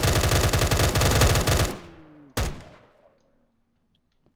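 Automatic gunfire in the modded video game Minecraft Cursed Walking: a loud rapid burst of shots lasting under two seconds, then a single sharp shot that rings out and fades into near silence.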